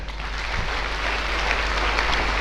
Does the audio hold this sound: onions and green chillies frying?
no